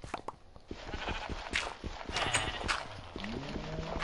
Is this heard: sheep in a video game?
yes